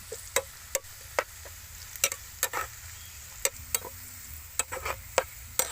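Red garlic frying in a pan, with a faint low sizzle under a dozen or so sharp, irregular clicks and taps, likely a utensil stirring against the pan, close and without talk.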